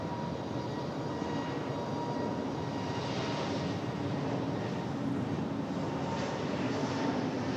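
Frontier airliner moving on the ground at Raleigh Durham airport, a steady distant jet engine roar that rises slightly in the middle, with no other distinct sounds.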